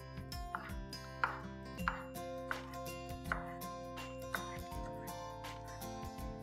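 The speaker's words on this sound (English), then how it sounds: "Next, I'm moving on to French beans. Similarly, I'm going to slice it thinly." A knife slices French beans thinly on a board, giving a steady series of soft, evenly spaced chops over quiet background music.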